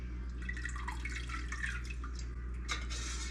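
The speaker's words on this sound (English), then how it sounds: "add my rennet directly into the milk while I'm stirring" Rennet is added to skim raw cow's milk while it is stirred for mozzarella, giving soft close liquid drips and swishing that run steadily under a low hum, with no talk.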